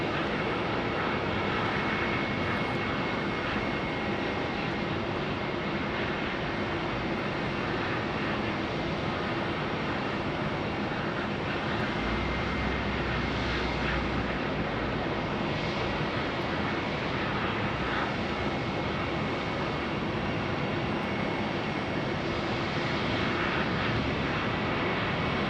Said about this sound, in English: Next to take off is Delta 365 on an A321neo,